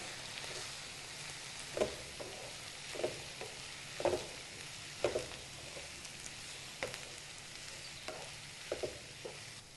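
Turmeric, salt and tomato pieces are stirred into a capsicum curry in a pan, with soft rhythmic scrapes coming roughly once a second over a faint, constant sizzle.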